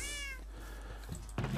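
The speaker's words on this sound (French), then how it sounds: "Oh, y a trop de chats." Cats meowing in Minecraft, a clear meow at the start followed by another short cry near the end over a low steady hum, close and with no talking.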